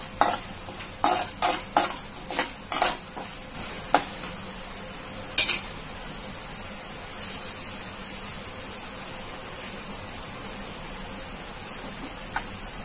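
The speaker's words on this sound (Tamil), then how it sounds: "கல்லப்பருப்பு நல்லா பொரிஞ்சு வரட்டும்." Chana dal, cumin and dried red chillies fry in oil while a spatula scrapes the pan in quick rhythmic strokes, then the stirring thins to occasional taps over a soft continuous sizzle, with no voices.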